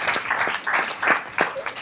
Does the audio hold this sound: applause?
yes